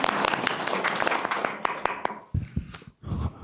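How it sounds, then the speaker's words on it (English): A short burst of clapping greets the city manager at an Oldsmar city council meeting, a small crowd's applause that thins out into a few scattered claps within a few seconds. "Give him applause."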